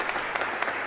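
A brief burst of audience applause, dense continuous clapping with a few sharper claps standing out, heard alone without speech.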